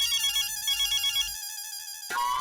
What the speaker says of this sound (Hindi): मेरे ऑफिस से फोन है